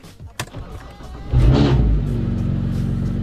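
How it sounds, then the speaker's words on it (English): A BMW 335i with the N54 twin-turbo engine, freshly flashed with an MHD backend tune, cranks briefly and fires into a loud, close roar, then settles into a steady, rumbling idle. "car started right up"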